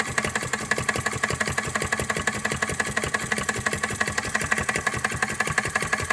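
Retrol Flame Licker RE01 vacuum engine with proper main bearings turning over slowly, a steady rapid rhythmic ticking and thumping that carries on evenly throughout, close and moderately loud with no talking.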